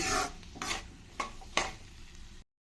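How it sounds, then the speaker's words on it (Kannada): Chopped green beans and corn frying in oil in a pan, heard as a few separate bursts of scraping stirs over a faint sizzle before cutting off abruptly into silence. "ಒಂದು ಫೈವ್ ಮಿನಿಟ್ಸ್ ಎಣ್ಣೆಯಲ್ಲಿ ಸ್ವಲ್ಪ ಚೆನ್ನಾಗಿ ಫ್ರೈ ಆಗಲಿ"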